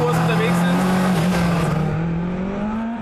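A 550-horsepower, 890-kilogram rally race car accelerates hard on a gravel safety course, its engine note droning loud and steady and climbing gradually in pitch, with a voice talking over it.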